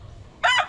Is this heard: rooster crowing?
yes